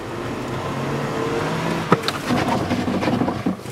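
A Kia Forte with a 2-liter four-cylinder engine accelerates. The engine drone builds beneath cabin and road noise, with a brief thump in the middle.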